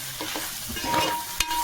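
Chili powder, turmeric and coriander powder being stirred into sizzling meat for gongura boti, brief close scraping strokes over a steady fry and one sharp clack of the spoon.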